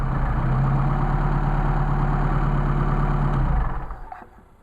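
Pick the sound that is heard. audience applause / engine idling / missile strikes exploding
engine idling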